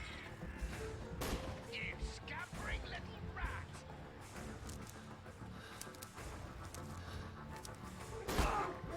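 Gunshots in the detective game Sherlock Holmes: The Devil's Daughter, a few sharp bangs spread through a busy, muffled soundscape under ongoing talk, with one louder crack near the end.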